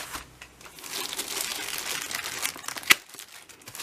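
Plastic packaging from an AliExpress parcel holding a storage bag for a Tello drone crinkles and rustles continuously close by, with a sharper crackle near the end.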